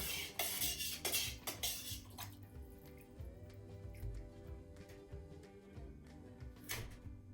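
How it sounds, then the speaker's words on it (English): A spoon stirs turkey bone broth in a pot, clinking and scraping against the metal with soft liquid sloshing, close up and quiet, with no one talking. "then we will give it a stir with a new spoon"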